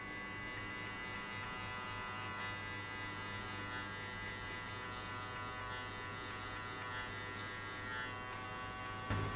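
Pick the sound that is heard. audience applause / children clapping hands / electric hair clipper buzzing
electric hair clipper buzzing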